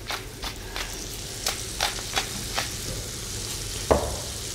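Pepper being ground by hand over a duck leg filling of butter and red currants, a series of short dry crunching bursts with a sharper clack near the end, recorded close in a quiet kitchen.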